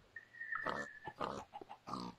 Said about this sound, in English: Stupid pigs, get away.